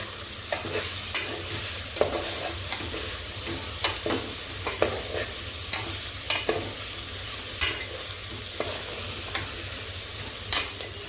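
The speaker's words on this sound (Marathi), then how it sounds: "त्यानंतर आपल्या इतर भाज्या सगळ्याला आपण आता एकजीव करून घेऊया" Peanuts, cashews, almonds, raisins and mixed vegetables being stirred into frying masala for cocktail khichdi, with repeated scraping clinks of the spoon over a steady low sizzle and no talking.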